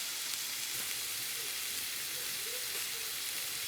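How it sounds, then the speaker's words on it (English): Jackfruit sautés in a pan with a faint, steady, hissing sizzle that continues evenly throughout, quiet and without voices. "And we're gonna saute that up."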